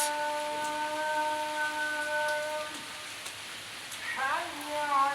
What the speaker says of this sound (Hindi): बहुत तेज़ बारिश है, बहुत तेज़ बारिश हो रही है, तूफानी।